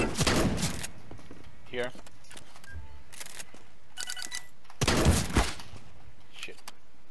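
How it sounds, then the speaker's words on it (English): Bursts of gunfire in the video game CS:GO Danger Zone on the Blacksite map. A loud volley opens, a second burst comes a few seconds later, and a player speaks briefly between them. "Somebody's shooting me."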